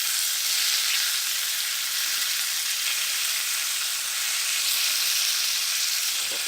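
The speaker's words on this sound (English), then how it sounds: "I find the secret to good bacon is to flip it constantly." Bacon fries in a pan, crackling and sizzling in a dense, steady hiss that stays close and continuous with no talking.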